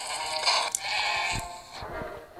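Sheep bleating in the mobile shooter game Pixel Gun 3D, a couple of wavering, fairly loud game-animal bleats close up, with no talk over them.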